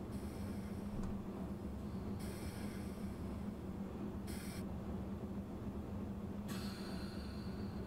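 A high-speed train rolls steadily along a line in South West China in a train simulator game, a constant low rumble of wheels and motor with bright hissy surges of wind noise coming and going on top.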